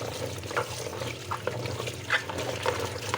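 Figs being washed by hand in water, with steady sloshing, splashing and trickling close by, rising in small surges as the fruit is stirred and rinsed.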